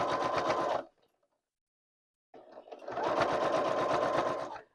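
A sewing machine stitches fabric pieces together with piping, running in two loud, steady bursts split by about a second and a half of silence, close up with no talk.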